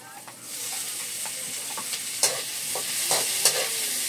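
Tomatoes go into a frying pan with bitter gourd and are stirred, bringing a steady sizzle broken by clicks and scrapes of the spatula, close up, with no talking.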